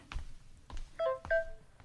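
A phone chimes with a short text-message alert, a few bright electronic beeps following soft handling knocks, close and moderately quiet, with no speech.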